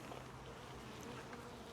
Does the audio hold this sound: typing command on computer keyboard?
no